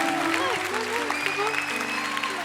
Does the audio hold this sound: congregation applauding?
yes